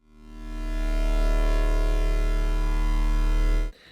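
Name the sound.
electrical hum sound effect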